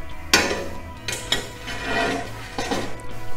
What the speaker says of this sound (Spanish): podéis ir picando clac, clac, clac, clac, clac, clac, clac, clac, clac, clac, hasta partir completamente el cristal